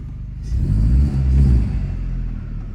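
Turbocharged 1.8-litre engine of a VW Mk4 Jetta idles quietly while the car backs out, with a low rumble that swells briefly near the start and then settles.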